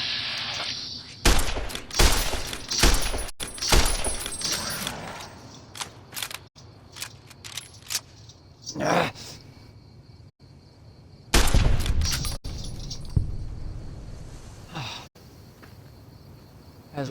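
Irregular bursts of gunfire in Fallout New Vegas, sharp cracks and clustered volleys scattered across the stretch, some loud and close, others more spaced out, over a faint steady background hum.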